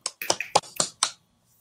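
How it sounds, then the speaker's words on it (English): A few people clapping at the end of a children's book read-aloud, about seven quick separate claps in an uneven burst that stops after a second. "We always clap for a good book."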